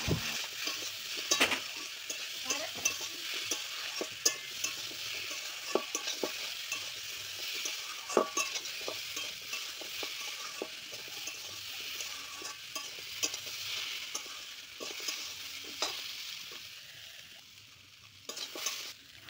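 Taro chunks fry and get stirred with salt and turmeric in a pan, giving a steady sizzle broken by frequent scraping and knocking stir strokes, close and fairly quiet, with no talking.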